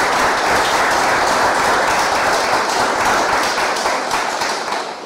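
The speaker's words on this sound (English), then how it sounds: "And while I thank you for your applause" Loud, sustained audience applause fills the room at a political event, a dense continuous clatter of many hands that holds steady and begins to fade slightly at the end.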